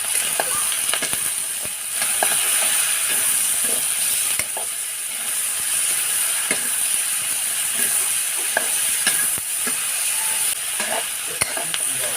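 Mixed vegetables stir-fry in a hot pan, giving a steady bright sizzle broken by repeated scraping and clacking strokes of a utensil, close and unaccompanied by talk.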